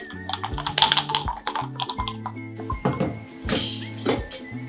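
Ice rattles and clatters inside a closed glass jar as it's shaken in rapid bursts, a busy close clinking that swells toward the end.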